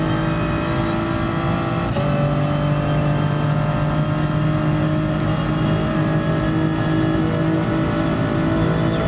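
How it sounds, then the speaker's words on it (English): Toyota Supra race car in Gran Turismo Sport held at high revs, a loud steady engine whine with a brief shift blip near two seconds, continuous and close, with no voices. "Need to quit over revving the Supra."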